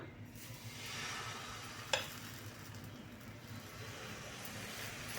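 Dosa batter poured onto a hot griddle, giving a steady soft sizzle with a brief sharp scrape or clink partway through, no voices.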